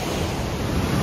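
Loud, continuous roar of a whitewater river wave train near Queenstown, a dense broadband wash of churning rapids with no pauses.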